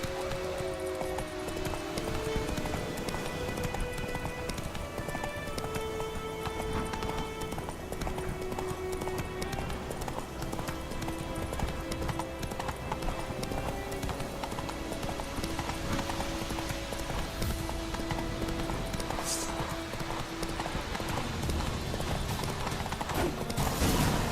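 Roach, the horse in The Witcher 3 video game, clip-clops along in a steady, rhythmic hoofbeat over a continuous musical score for the whole stretch, with a faint whinny near the end.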